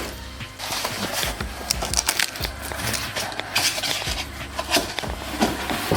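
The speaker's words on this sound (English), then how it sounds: "Do me a favor and unwrap that shit for me." An eBay intercooler is unwrapped from its packaging, close and fairly loud. Plastic and cardboard crinkle, tear and rustle continuously, with irregular handling knocks and scrapes throughout.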